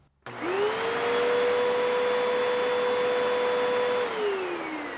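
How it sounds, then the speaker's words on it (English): A 12 amp vacuum cleaner, powered by a Jackery HomePower 3600 Plus backup power station, switches on after a brief quiet moment. It runs as a loud, steady, close whining roar and eases slightly at the end. "It's a 12 amp vacuum."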